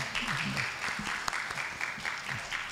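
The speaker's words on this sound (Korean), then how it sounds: "일어나시면 큰 박수로 환영해 주시기 바랍니다" Church congregation applauding during a Sunday worship service, brisk continuous clapping with a faint voice underneath, short and moderately close.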